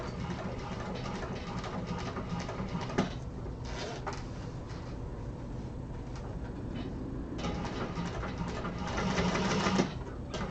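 A sewing machine top-stitches a fabric pouch, its motor whirring in a fast, even needle rhythm that surges slightly louder toward the end, fairly faint and without talking.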